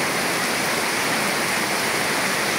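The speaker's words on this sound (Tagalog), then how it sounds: "hingapaw ang tulay. Ang sapa. Grabing ano, overflow na talaga." A flooded creek overflows a bridge with a loud, continuous roar of rushing water, a dense unbroken wash of noise like a waterfall, steady throughout with no voices.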